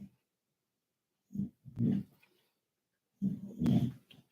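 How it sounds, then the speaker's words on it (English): A pet dog snores indoors in bursts of low, rough breaths with gaps of silence between, faint and close. "That's my dog snoring in the background."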